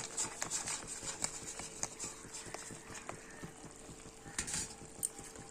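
Homemade bori dropped into a simmering Bengali katla fish curry and stirred, giving a steady close sizzle and bubbling with soft scraping and light taps of a spoon against the pan, without any talk.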